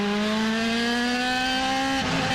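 J.R. Hildebrandt's National Guard-sponsored IndyCar screams at a steady high pitch from onboard at Sao Paulo, loud and continuous, then the tone drops sharply near the end as the engine comes off.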